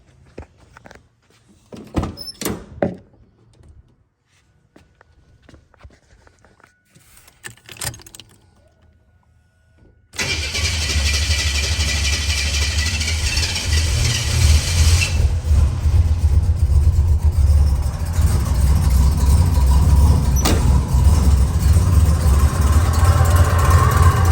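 A turbocharged Buick Grand National, low-mileage and long abandoned, is cranked after some quiet key jangling, then catches and settles into a loud, steady, close idle that runs on without any talk.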